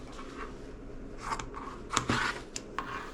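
Scissors snipping through tie-dye fabric to cut out a dog bandana, a few short crisp cuts spaced irregularly, close and clear over quiet room tone.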